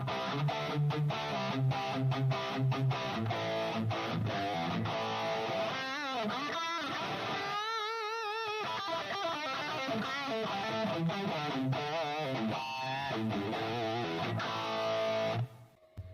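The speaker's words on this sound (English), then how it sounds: "Let's now try changing the drive, inserting a very transparent pedal like the MXR Micro Amp." An electric guitar plays through an Ibanez TS808 overdrive and an MXR Micro Amp boost, giving a loud, continuous driven tone with strummed chords, single-note phrases and a few ringing sustained notes before cutting off at the end.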